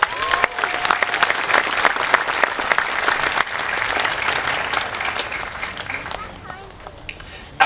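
Commencement audience at a high school graduation ceremony applauding steadily, a dense wash of clapping from a large crowd that holds loud for several seconds before thinning slightly at the end.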